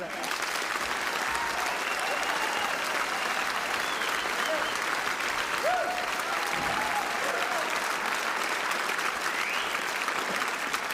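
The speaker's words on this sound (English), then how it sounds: "So for the fabulous, entertaining Pat Kenny and John Short, a round of applause." A live comedy audience gives a sustained round of applause for comedians Pat Kenny and John Short, a dense, even roar of clapping that holds steadily for about eleven seconds with faint voices underneath.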